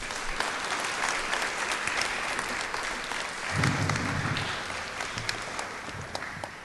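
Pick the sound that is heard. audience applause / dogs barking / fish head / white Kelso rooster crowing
audience applause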